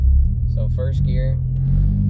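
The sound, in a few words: manual car engine pulling away in first gear, feathering the clutch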